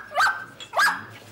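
A dog gives two sharp, close barks about half a second apart in a quiet indoor scene from a German comedy, with no one speaking over them.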